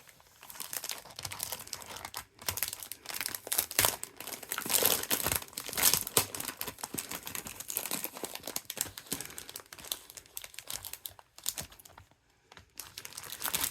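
Plastic bag crinkles and rustles continuously while a craft-supply haul is unpacked, close and fairly loud, with sharper crunchy bursts and brief pauses throughout.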